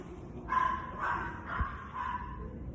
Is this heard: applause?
no